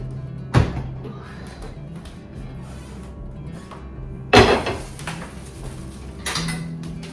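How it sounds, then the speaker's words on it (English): Boiled potatoes being spooned into glass canning jars in a home kitchen: a few sharp clinks and clatters of utensils against glass and metal, separated by quieter handling noise. "I'm going to get them into the jars."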